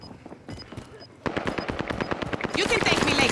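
Rapid automatic gunfire in the video game Rebirth Resurgence, a quads match: a few sparse shots at first, then dense sustained bursts growing louder and more intense, with faint voices underneath.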